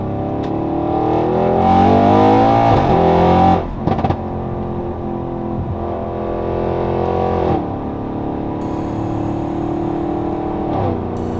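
An Audi RS6's non-resonated exhaust revs repeatedly, a deep throaty roar rising and falling close by, with brief pauses between the blips and a steady idle underneath.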